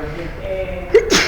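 A single sharp sneeze bursts out close by, preceded by a short intake of breath, in a room where a person had been speaking quietly just before.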